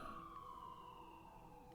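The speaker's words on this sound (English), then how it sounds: "If you can hear that siren, it's not me." An emergency vehicle siren wails outside, heard faintly from a distance as a steady, gliding tone with no talk over it.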